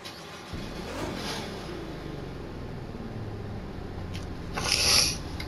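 A Nissan car converted to Nismo trim cranks and starts, then holds a throaty idle, with a brief louder surge near the end.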